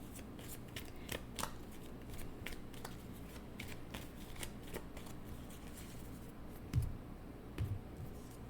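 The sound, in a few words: tarot cards being shuffled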